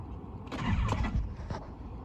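A BMW E30's engine cold-starting on a mild morning: a cranking burst catches into a rough idle about halfway through, moderately loud and close, with a few rising revs before settling.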